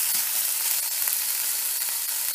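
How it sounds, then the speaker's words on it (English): Tomatoes fry in masala in a pan for mushroom masala, a dense, close, steady sizzle with faint stirring ticks and no voices. "I'm going to add the tomatoes now. And I'll fry this until the tomatoes turn pulpy."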